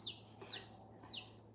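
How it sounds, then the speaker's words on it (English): A chicken gives three short, high clucks, spaced evenly over a quiet indoor background, fairly faint and with no talking. "This one's a chicken, not a bird though."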